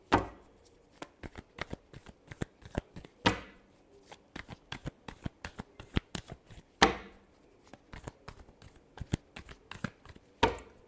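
Tarot cards being shuffled by hand, with repeated sharp riffles and soft slaps in irregular bursts and a few longer swishes, close and fairly quiet, with no talk.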